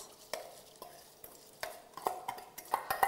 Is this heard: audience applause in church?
no